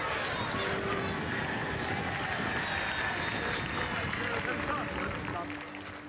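A stadium crowd at a Trenton Thunder minor league baseball game applauds the retiring bat dog Chase, a dense, sustained wash of clapping and crowd noise that fades slightly near the end.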